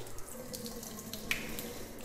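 Water runs from a tap to dilute shaving soap lather during a wet shave, a steady close trickle with a small splash partway through.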